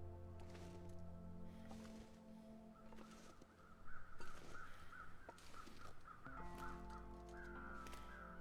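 Crows caw repeatedly in The Long Dark survival video game, a series of harsh calls over a steady droning wilderness ambience with tonal hum throughout, no talk.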